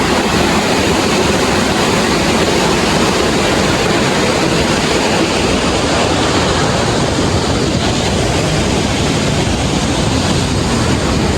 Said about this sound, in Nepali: खोला चाहिँ ठुलो छ